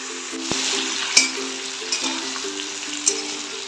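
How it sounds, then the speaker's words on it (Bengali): Winter vegetables fry in a covered pan, a steady close sizzle with occasional soft stirring knocks and faint clinks. "এবার এগুলো ভালো করে ভেজে তুলব।"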